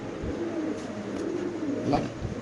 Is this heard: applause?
no